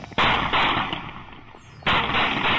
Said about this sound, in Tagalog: Naghabulan sila ng pulis at dito nagsimula ang barilan.